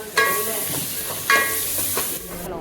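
Ginger garlic paste frying in a pan with sautéed onions, a loud close sizzle with two sharper bursts as it is stirred, and faint voice sounds beneath.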